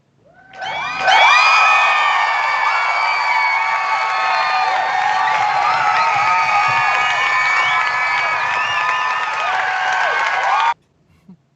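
A live audience at a comic book podcast taping cheers, whoops and shouts with crowd applause, a loud, dense, sustained burst lasting around ten seconds before cutting off abruptly.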